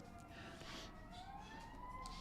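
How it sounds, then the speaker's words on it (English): Ambulance and fire truck sirens wail outside, a faint rising and falling tone heard from a distance, muffled and continuous with no talk over it. "here comes the ambulance. Here comes the fire truck."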